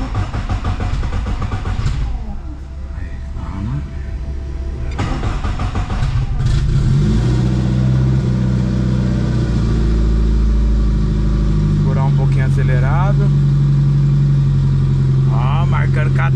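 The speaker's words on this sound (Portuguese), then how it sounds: "Depois o carro pega." A VW Gol Turbo car engine cranks briefly a few times, then catches and idles before revving up with a rising, then falling drone, while people talk nearby throughout.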